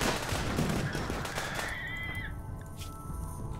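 A dense burst of rapid gunfire in the Rimworld video game crackles in the first half, fading into a thinner, noisier background. No one talks.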